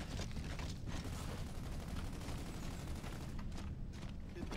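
Gunfire in a video game: a dense, continuous rattle of shots and booms that fills the whole stretch at a steady, loud level with no pauses.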